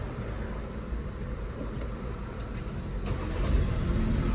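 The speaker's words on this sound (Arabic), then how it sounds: "نديروا امارش للسياره ونسمعوا الموتور ديالها." A 2022 Volkswagen Tiguan with about 90,000 km, in excellent condition, runs with its engine heard up close as a steady low rumble and hum, rising slightly toward the end, with no talking.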